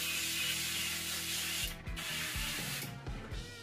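An airbrush sprays paint onto a masked-off painted eye, a steady close airy hiss with faint mechanical clicks and rubbing toward the end.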